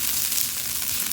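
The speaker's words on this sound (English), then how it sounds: "So you toss your rice around. You are frying the rice." Chicken fried rice sizzling and frying in a hot pan, a steady close crackle and hiss with no pauses and no talking.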